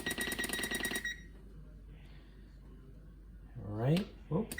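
A kitchen timer being set while baking banana bread gives a run of rapid electronic beeps at the start, then quiet, followed by talking.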